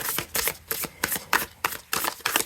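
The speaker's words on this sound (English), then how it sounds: "I'm having good shuffling now today." A deck of rose-petal-textured collage tarot cards, the Tazama deck, is shuffled in quick repeated bursts. About nine crisp riffling snaps arrive in an even rhythm, close and clear, with no talk.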